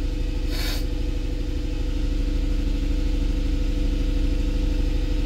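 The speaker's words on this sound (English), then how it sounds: "it has definitely never run at 1500 RPMs this long for 10 months" A Mercedes E63 AMG engine runs continuously at about 1500 RPM with a misfire problem, giving a steady, droning hum with a faint rhythmic pulse and a brief hiss near the start.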